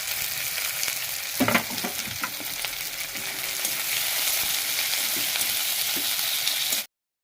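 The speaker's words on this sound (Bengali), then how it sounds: "দুটো তেজপাতা দিয়ে দিলাম, শুকনো লঙ্কা দিয়ে দিলাম, আর দারচিনি, পেঁয়াজটা দিয়ে দিলাম। আরে তেল ছিটকাচ্ছ তো।" Onion, bay leaves, dry red chillies and cinnamon sizzle and spit in hot oil, a steady close frying hiss with a few stirring clatters early on, running alone before cutting off abruptly.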